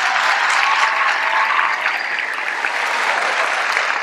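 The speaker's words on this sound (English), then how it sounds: "Let's give him a nice round of applause," A high school audience applauds a guest speaker, producing a continuous, fairly loud wash of clapping that holds steady for about four seconds with no voices over it.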